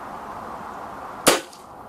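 One sharp, fairly close crack of a Hatsan Galatian air rifle firing a pellet at a spinner target made from an old television stand, a single report with a brief ring-off over a steady background hum.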